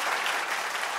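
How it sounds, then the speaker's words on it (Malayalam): Applause from a studio audience at a televised comedy show, steady dense clapping filling the whole moment with no voices over it. "കൊടുത്തൊരു കൈയടി അവർക്ക്"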